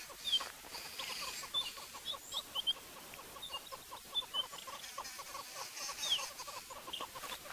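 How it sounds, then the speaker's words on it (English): Many wild birds calling from trees at sunrise on a safari drive in the bush, a dense chorus of repeated chirps and clucking calls at moderate distance, with no talk. "We've got lots of birds in trees."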